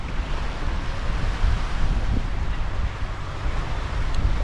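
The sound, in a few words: strong wind by the sea at the rocks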